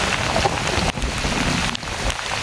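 Heavy rain pours onto rice paddies in Laos during a strong rainy season, a dense, steady hiss of drops that holds throughout with a brief dip partway.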